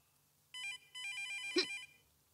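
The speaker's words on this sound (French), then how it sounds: "Il faut que je réponde au téléphone." A telephone rings with an electronic trilling tone in two bursts, clear and alone, followed by a brief click.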